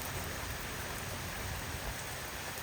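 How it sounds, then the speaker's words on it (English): Steady broadband rain pours down over a summer garden, a dense, even hiss of drops hitting surfaces without pause, close and constant with no voices. "here comes the rain"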